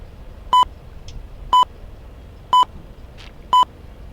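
An emergency locator transmitter test tone in the X-Plane 12 flight simulator gives four short, identical electronic beeps, evenly spaced about a second apart over a faint background hiss.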